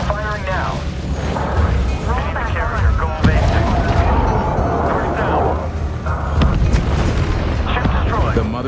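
Ship cannons in the space strategy game Homeworld 3 pound away at an enemy carrier in dense, continuous booms and blasts. They sit under steady radio-style voice chatter and layered battle noise.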